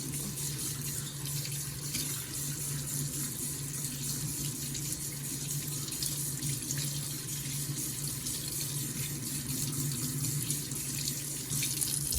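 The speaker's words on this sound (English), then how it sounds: "open up the water a little bit." Water runs steadily from a sink tap at a moderate flow, a continuous splashing hiss close by with no breaks and no voices.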